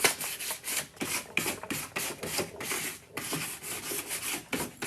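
Sandpaper rubs back and forth over a painted wooden vanity to distress it, a close, steady rhythmic rasp of short strokes repeating without talking.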